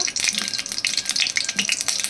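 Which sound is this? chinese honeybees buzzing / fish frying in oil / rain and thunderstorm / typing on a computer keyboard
fish frying in oil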